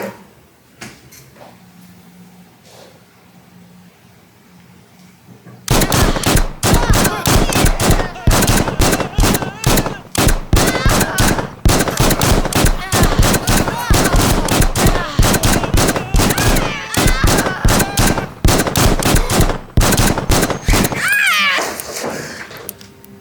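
Rapid gunfire from a shooting video game bursts in after a quiet opening and rattles on in dense, loud volleys, fading to scattered shots near the end.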